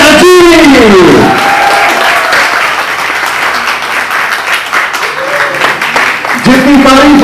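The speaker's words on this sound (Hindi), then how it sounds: "मैं चाहता हूं तहे दिल से जोरदार तालियों के साथ अभिनंदन किया जाए।" A crowd at a show launch event applauds to welcome Prasenjit Chatterjee, a loud, sustained wash of clapping, with someone speaking over it at the start and again near the end.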